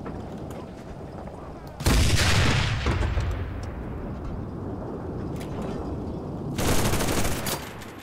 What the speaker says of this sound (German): Aber mit einem Panzer, mit Maschinengewehr einfach so straight draufhalten auf der Entfernung